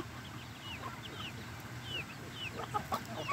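Backyard chickens eating greens give soft scattered clucks and short chirpy calls over a steady low background hum, faint and somewhat distant, with no talk.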